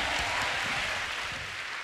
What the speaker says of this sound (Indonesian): Tepuk tangan bagi Tuhan yang luar biasa.